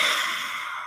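A slow, breathy exhale pushed through a constricted throat in ujjayi ocean breath, a soft hissing rush that holds steady for under a second and then tapers slightly, close and alone.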